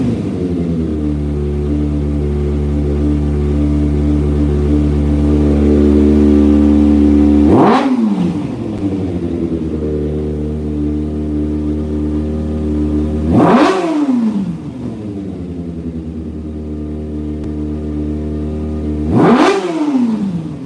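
A car engine is held against the rev limiter, a loud close steady drone that wavers and drops sharply three times, each drop followed by a quick climb back up to the limiter.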